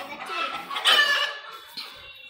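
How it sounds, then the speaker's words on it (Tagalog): A chicken clucks and squawks loudly nearby in a short burst, followed by a fainter cluck. "Ang ingay ng manok."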